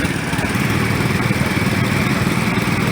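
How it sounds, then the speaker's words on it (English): A 1970 John Deere 110 lawn tractor runs in an old engine show parade, its small engine giving a loud, steady, close drone throughout. "1970 John Deere 110, David Van Alstein from Big Rapids."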